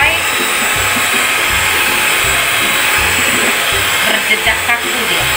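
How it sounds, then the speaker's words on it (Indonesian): Cake dough stirred for close to 15 minutes until risen, heard as a steady loud whirring drone like an electric mixer, with rhythmic low thumps running through it and no talk. "Kita aduk terus adonannya sampai dia mengembang seperti ini."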